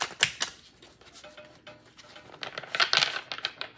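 A deck of tarot cards is shuffled, giving quick papery riffles and soft flicks in uneven bursts, close and moderately loud, with no talk over them.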